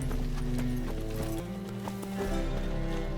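Roach, the horse in The Witcher 3, clops along with a steady rhythm of hoofbeats, moderately near, over a droning musical game score.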